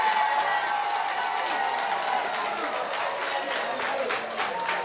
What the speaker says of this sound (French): À l'unanimité et par acclamation, les militants plébiscitent une fois encore Erast Feridimi Agossou